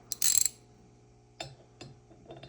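A ratchet wrench fitted with a screwdriver bit works on a Honda XR150L cam chain tensioner, giving a quick burst of ratcheting clicks followed by a few sparse, close metallic clicks.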